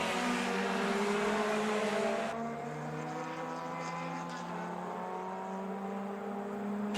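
Group 3 Lotus 7 race car running on a road racing circuit at Virginia International Raceway, its engine a steady sustained drone with a slight pitch change partway through, moderately loud with no talking.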